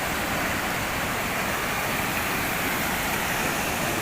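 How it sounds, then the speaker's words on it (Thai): A waterfall in Attapeu Province, Laos, gives a steady, broad rushing roar of falling water that stays constant throughout with no other sounds. "นี่ตาดน้ำตก"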